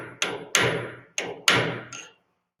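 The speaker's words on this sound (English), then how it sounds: "Strike the punch in the direction the bearing is turning." Hammer of roughly 10 to 14 ounces striking a drift punch to set a bearing lock ring on a Talon A600 gyroplane drive, five sharp metallic blows at uneven intervals, close and loud with short ringing decays.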